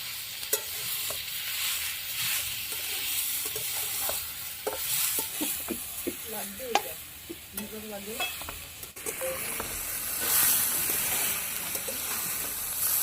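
Ghetkol stalks sizzle and crackle in a hot pan, a soft steady frying hiss with repeated scraping stir strokes, close but fairly quiet, with no voices.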